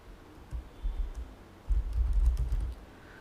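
A name is typed on a computer keyboard in two short bursts of close keystrokes, separated by a brief pause.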